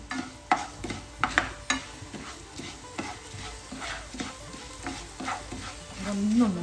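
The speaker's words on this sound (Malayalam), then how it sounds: "അതിലോട്ട് ഈ മല്ലിയും കൂടി ഇട്ട് കൊടുക്കാം." Coriander seeds roasting in a hot pan as they are stirred, with a soft crackling sizzle and a series of sharp scraping strokes, near and moderately quiet.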